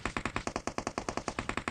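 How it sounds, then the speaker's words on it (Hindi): Rapid automatic gunfire in the PUBG Mobile video game, a fast, even string of loud close shots lasting almost two seconds with no pauses. "तो इसने फायरिंग स्टार्ट की"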